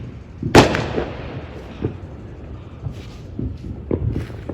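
U.S. fireworks burst outdoors with one sharp, loud boom followed by scattered fainter pops and distant thuds over a rumbling background.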